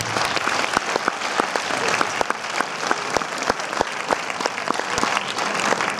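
A film premiere audience applauds steadily for six seconds, a dense, loud wash of many hands with a few sharper individual claps standing out, no voices over it.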